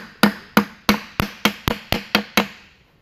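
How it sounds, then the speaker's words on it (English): A hammer taps metal nine times in a quick, even rhythm, driving an axle seal into a transmission, each blow sharp and close, then the strikes stop. "simply use a hammer, a couple of whacks at it"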